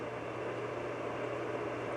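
A Hamilton Beach electric kettle, model 40865, boils water with a steady close rushing hiss and rumble, continuous and even throughout.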